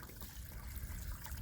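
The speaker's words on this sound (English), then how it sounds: "the water is flowing in and out of them holes" Water flowing in and out of holes in sandstone at the bottom of a wooded hollow on rural land, a soft continuous trickle and gurgle, faint and steady throughout.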